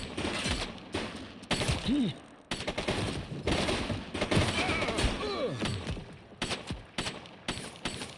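Gunfire in the police video game The Precinct: repeated rapid bursts and single shots crack close and loud over several seconds, with voices calling out between them.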